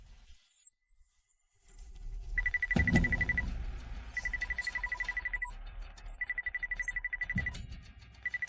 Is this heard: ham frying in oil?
no